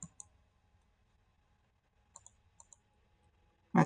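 Mouse clicks on a computer while working in AutoCAD: a couple of sharp clicks at the start, then two quick pairs of clicks a few seconds later, close and clear in a quiet room.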